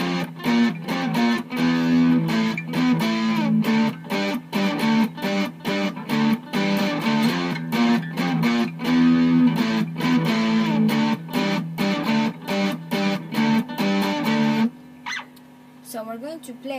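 A distorted electric guitar drives the chorus of a song with busy, choppy power-chord strumming, loud and up front, before dropping to a few quiet sustained notes at the end.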